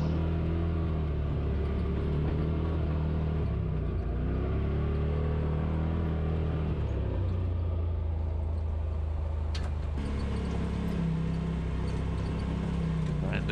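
An ATV rolls along a wide Hatfield & McCoy trail with drop-offs and switchbacks, its engine holding a steady low rumble throughout with a brief sharper rattle near the middle.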